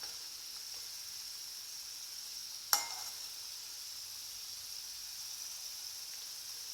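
Moong dal vadai fry gently in oil over a low flame, giving a faint, steady hiss of quiet sizzling. A single sharp click cuts through partway in.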